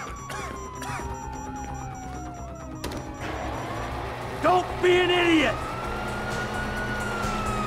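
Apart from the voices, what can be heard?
police sirens in the video game Grand Theft Auto V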